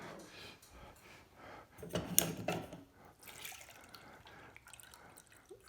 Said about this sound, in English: Add water for the water bath.